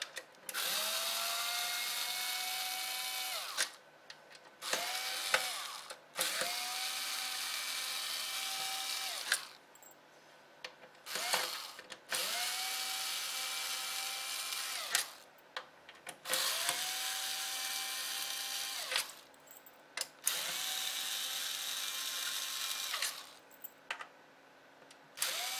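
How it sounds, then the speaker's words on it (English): A small power screwdriver whirs in repeated bursts, backing six long Torx T10 screws out of a fat Xbox 360 console, each run a steady rising whine of several seconds with brief pauses between screws. "So there are six long Torx T10 screws. So simply take them off."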